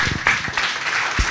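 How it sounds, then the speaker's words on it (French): Brief burst of audience applause at a French film forum event, scattered clapping from a modest crowd, moderately loud and short. "Merci d'applaudir"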